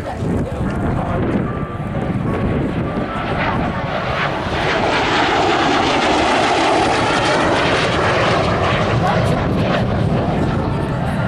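Polish MiG-15 jet passing at an airshow in Southport in 2018, a loud sustained roaring whoosh that swells and fades over several seconds, with wind buffeting and a voice talking underneath.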